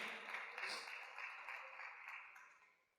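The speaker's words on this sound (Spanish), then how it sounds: "Vamos a darles un aplauso." A church congregation applauds, producing a faint, dense wash of clapping that holds steady and then fades away at the end.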